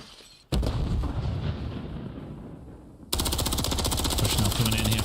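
Rapid automatic gunfire in a Call of Duty League match, loud sustained bursts filling the whole clip and growing harsher after a short lull, with commentators' voices faintly underneath.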